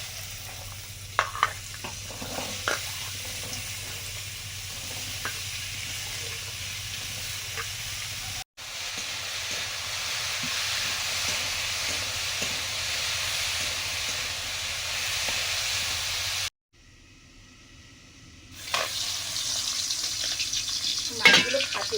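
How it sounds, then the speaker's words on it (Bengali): Sliced papaya frying in hot oil with nigella seeds, a steady close sizzle and hiss with a few stirring clatters, broken by a brief pause before the frying resumes. No speech. "পেঁপে ভাজা হবে, কালো জিরে দিলাম"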